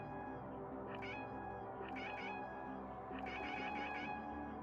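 A pet space cat in the video game Shortest Trip to Earth meows in three short bursts, the last a rapid double, loud and close over a steady droning game soundtrack.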